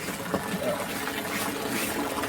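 Water from a free-flowing spring water system in Bicol runs in a continuous splashing trickle close by, with voices speaking faintly over the flow.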